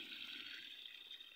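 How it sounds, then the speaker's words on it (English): Water running steadily into a tank on a farm where Azolla is being grown, a faint, continuous hissing rush with no voices. "We are now filling the water"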